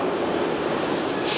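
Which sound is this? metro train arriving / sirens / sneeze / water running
metro train arriving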